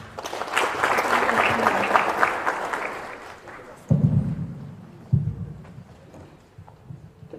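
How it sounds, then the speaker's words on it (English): Clapping from the audience at a youth parliament session swells for several seconds, then fades, followed by a few heavy knocks or thumps against a quieter room. "a round of applause, please."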